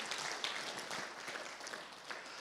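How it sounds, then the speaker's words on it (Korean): Applause from a church convention audience in Dallas, a soft, steady patter of many hands heard at some distance, faint and without voices. "박수 한번 하실까요?"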